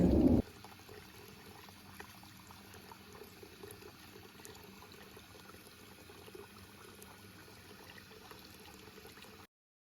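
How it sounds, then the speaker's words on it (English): Cassava being rinsed in water at home, a steady low splashing and trickling that runs evenly for several seconds after a brief louder knock at the start, close by and moderately quiet. "Now it's time to rinse the cassava. Make sure to rinse it well."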